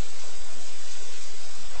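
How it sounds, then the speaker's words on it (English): Chicken sizzles in a pan with sauce, a close, steady hiss of frying that holds at even loudness throughout. "Just going to brush that around a little bit so that you can hear it kind of sizzling right now."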